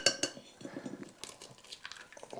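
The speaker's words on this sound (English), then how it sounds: "Crack him into the bowl like so." An egg cracked against a bowl's rim and dropped in, giving a couple of sharp clinks followed by soft taps and small clatters of crockery, close and fairly quiet with no talking.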